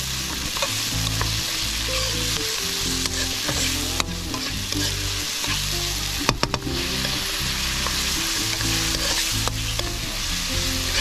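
Tomatoes frying and sizzling in a pan for pork binangonan, cooked outdoors in a backyard, with steady close sizzle, repeated stirring scrapes and a few sharp clinks, no talking.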